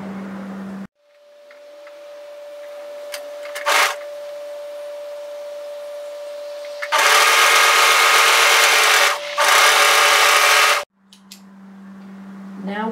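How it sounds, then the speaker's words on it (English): Sewing machine stitching the shoulder seam of a dress, two loud whirring bursts of stitching with a short pause between, after a stretch of quiet room tone with a faint steady hum and small clicks. "Now I'm going to sew the other shoulder together the opposite way."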